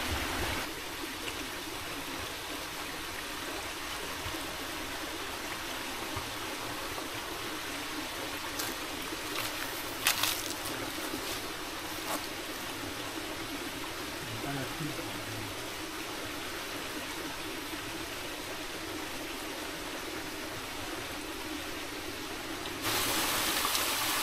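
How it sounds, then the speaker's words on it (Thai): Steady rushing of a waterfall fills the scene, a constant broad wash of falling water with a few faint clicks and knocks over it. "นั่งฟังเสียงน้ำตกเย็นๆเนาะ"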